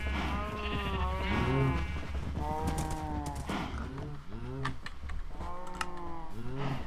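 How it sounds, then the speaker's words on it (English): Cows mooing repeatedly in a video game, several drawn-out lowing calls in succession, fairly loud, with keyboard clicking and faint background noise. "Your cows are kind of loud."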